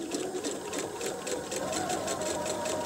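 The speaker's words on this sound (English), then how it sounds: "once you have stitched through the binding where it's folded, then you can pivot and just start sewing straight forward again" A sewing machine stitches along folded quilt binding, its needle running in a steady, rapid rhythmic chatter at close range, continuous and alone without any talk.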